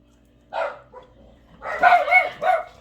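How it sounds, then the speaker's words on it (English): Dogs bark nearby indoors, a short burst of several sharp, fairly loud barks and yips, the first one alone and the rest clustered near the end. "We almost made it to the end without the bark bombers"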